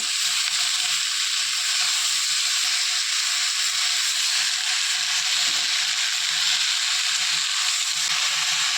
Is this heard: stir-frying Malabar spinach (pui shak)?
yes